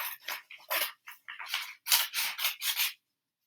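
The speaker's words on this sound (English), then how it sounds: "And I cut along the line." Scissors snip paper along a line for a book craft, a quick series of about a dozen crisp, close cuts in an uneven rhythm, with no voices.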